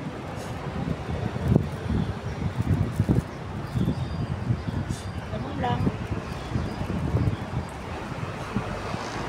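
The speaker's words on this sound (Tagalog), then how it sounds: "Mahangin ngayon, ah." Gusty wind buffets the microphone in uneven rumbling bursts, with a person speaking briefly underneath.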